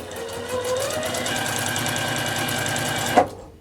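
A sewing machine runs a quarter-inch seam along the right side of a scrappy quilt block, a close, steady, rapid stitching hum for about three seconds, ending in a brief louder clunk as it stops.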